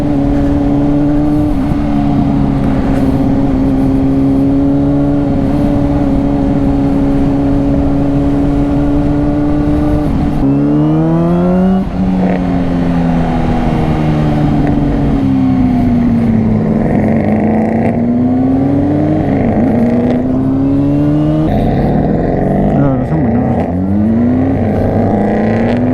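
A Mercedes-AMG car drives close by, its engine droning steadily before rising and falling through several loud revving surges as it accelerates.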